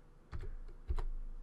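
Keys clack on a Mac computer keyboard, a short burst of several quick, close strokes in two small clusters, crisp against a quiet room.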